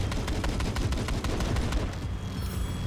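A large ship-mounted cannon fires again and again in Battlefield 4, a rapid run of loud, sharp booms in an even rhythm over a rumbling low roar, fading toward the end.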